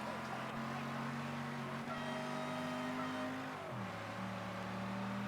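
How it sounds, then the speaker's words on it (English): A car horn honking in the video game Mafia III: sustained tonal horn blasts over engine and road noise, fairly loud, one pitch drop midway, no talk. "I remember how to honk in this car."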